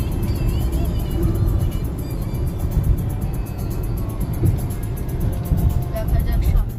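A car cruising along a smooth national highway toward Farakka gives a steady, loud low road-and-engine rumble with wind noise throughout, without letup.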